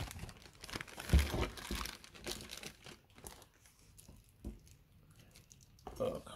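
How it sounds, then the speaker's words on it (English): A kitchen tap part is pulled out of its plastic bag with loud, close crinkling and rustling, heaviest at the start and then tapering off, with a voice talking faintly underneath. "Let me just take it out of the plastic"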